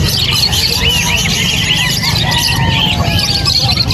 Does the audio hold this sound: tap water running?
no